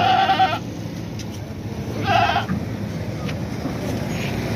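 Two goat bleats, dairy and Gabban goats being loaded for cargo transport to Gujarat, rise clearly at the start and again around two seconds over a steady noisy background of engine or crowd rumble.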